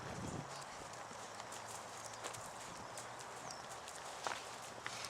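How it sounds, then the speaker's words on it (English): Horse hooves on an arena during riding practice, a steady rhythmic clip-clop of footfalls, moderately close and soft, with faint surrounding noise and no speech. "I'm going to increase the canter on this rein."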